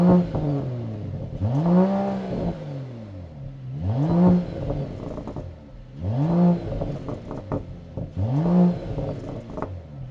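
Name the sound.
Mercedes-AMG CLS 53 exhaust note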